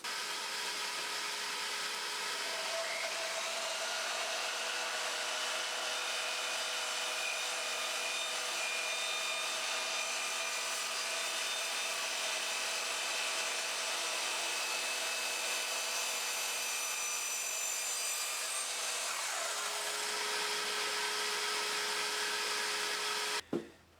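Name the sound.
sliding mitre saw cutting with vacuum running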